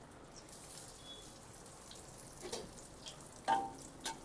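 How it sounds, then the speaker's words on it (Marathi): Veg spring roll frying in oil in a kadhai: a soft, steady crackle and hiss with scattered bright pops and a few sharper spits near the end, alone with no talk. "त्याला आपला स्प्रिंग रोल आता कढईमध्ये फ्राय करून घेऊया।"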